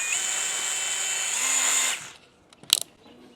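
A DeWALT brushless cordless drill runs steadily with a high motor whine for about two seconds, then spins down and stops, followed by a couple of faint clicks and handling noises.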